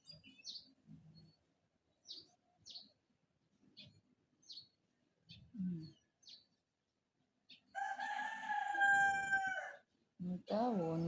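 Chickens cluck and chirp in short bursts, then a rooster crows loudly and at length close by, followed by another short crow, heard outdoors with no talk.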